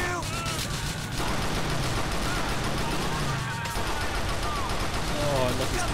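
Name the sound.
pistol gunfire in video game Grand Theft Auto IV: The Lost and Damned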